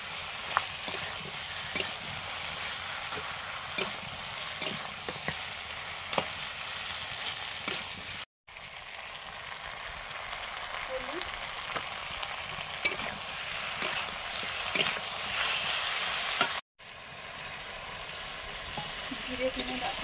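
Fried rohu fish heads simmer with cabbage in a pan, giving a steady close sizzle punctuated by repeated sharp stirring scrapes and clicks, with brief cuts and occasional speech in the background.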